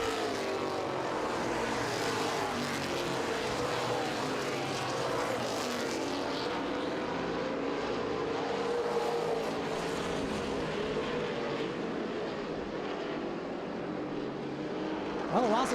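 Street stock race cars circle Owosso Speedway on warm-up laps, producing a steady, continuous engine drone that stays at a constant moderate level throughout, with faint voices underneath.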